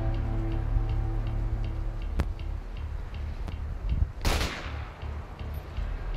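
A single sharp gunshot rings out in the video game A Way Out, with a softer crack and a brief noisy burst following against a quiet background.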